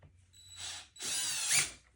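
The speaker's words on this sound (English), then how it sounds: "I don't think that drill's gonna work." A power drill driving Phillips screws on a skimmer pump whirs in two short bursts, the second longer and rising in pitch, close and fairly quiet.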